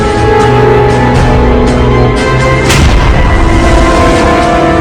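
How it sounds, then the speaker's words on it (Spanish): Loud, heavy cannon fire from the warship Tecumseh at a rebel-held fort in the American Civil War booms with a deep rolling rumble, a sharp report standing out midway, sustained and close. "Realiza un primer disparo al fuerte controlado por los rebeldes."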